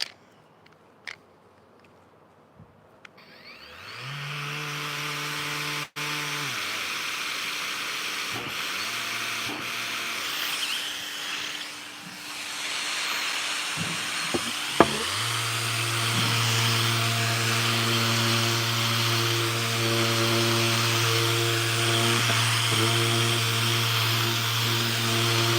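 A steady motorized whir of a power sander grinds continuously, with scraping and a few sharp knocks as it sands bark off wood.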